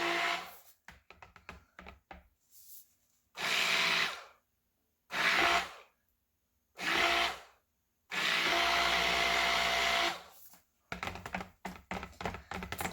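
Mixer running in bursts while blending a large batch of soap batter, several loud whirring spells of one to three seconds separated by pauses, with clattering handling noises between them.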